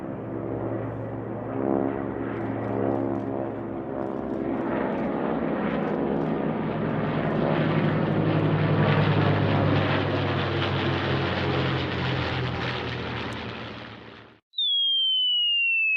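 A P-51 Mustang propeller fighter plane drones loudly and steadily, its engine swelling as it passes close, then cuts off abruptly, leaving a thin descending tone.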